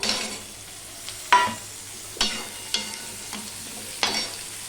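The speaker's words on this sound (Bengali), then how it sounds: "এই অবস্থায় যে আমি কেটে ধুয়ে রেখেছি আলুগুলো আমি দিয়ে দিলাম" Cut potatoes tipped into a pan of frying onion, garlic, garam masala and bay leaf, a steady close sizzle punctuated by several sharp stirring clatters and bursts.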